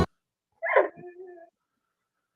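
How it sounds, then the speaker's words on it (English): A single dog bark followed by a short whining yelp, faint and somewhat distant against near silence. "Can you hear the dog?"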